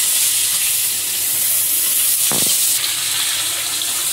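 Taro frying in oil in a wok gives a loud, steady hiss and sizzle throughout, broken by one brief clatter of stirring midway.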